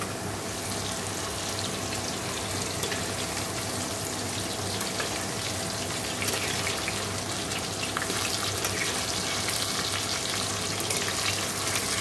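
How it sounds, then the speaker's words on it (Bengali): Potatoes fry in a pan at home ahead of a desi chicken curry, giving a steady, dense sizzle and crackle close by that holds throughout and grows slightly louder near the end, with no talking. "এখানে দেখো আলু ভাজা হচ্ছে"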